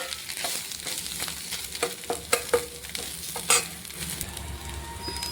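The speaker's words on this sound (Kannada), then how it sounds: "ಓಕೆ, ನಾವು ಇದು ಫ್ರೈ ಆದಮೇಲೆ ಜಿಂಜರ್, ಗಾರ್ಲಿಕ್ ಆ್ಯಂಡ್ ಕರಿಪತ್ತ ಪೇಸ್ಟ್" Ginger, garlic and curry leaf paste frying in hot oil, a close crackling sizzle with scraping stirs and spoon taps, moderately loud, no talk.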